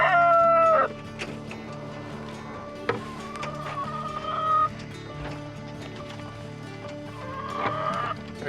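Backyard farm fowl call loudly at the start, then cluck and squawk intermittently over a low background murmur, with another burst of calling near the end.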